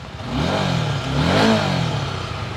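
A Suzuki Gixxer SF 250 single-cylinder 250 cc engine idles high, then rises and falls through two close, loud revs with a rough, throbbing note and no talk.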